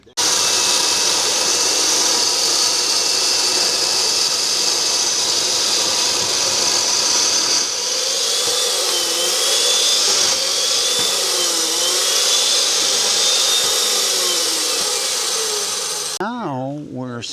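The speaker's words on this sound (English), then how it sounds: "Now we're starting to do some cutting, so we've got kind of the first use of the Makita chain mortiser after the demo." A Makita chain mortiser cuts mortises in timber on a timber-frame build, a loud, steady high motor whine that shifts slightly in pitch as it bites into the wood, running continuously before cutting off, with a voice briefly heard at the end.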